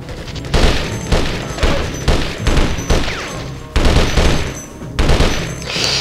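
Gunfire in the video game Conflict: Desert Storm, with loud bursts of automatic fire repeating roughly every half second to second, sharp and close, and little else audible.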